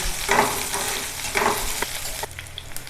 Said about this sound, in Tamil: இப்போ இதை நல்லா வதக்கி விட்டுருவோம்.